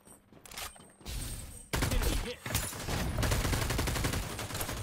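Gunfire in the mobile video game Farlight 84, a dense rapid fusillade of shots with overlapping bursts that builds to a loud, nearly continuous barrage over a few seconds, with no voices.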